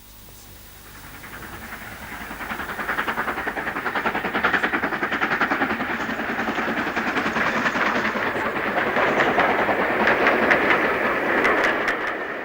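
A Black 5 steam locomotive hauls a parcels train through a gorge, its rumble and clickety-clack of wagons swelling as it nears and staying loud and continuous, with hissing steam on top.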